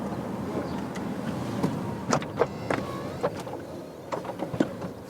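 Convertible roof of a BMW i8 Roadster closing, a soft electric motor whine with faint mechanical clicks and thumps as the top moves into place, fairly quiet and close.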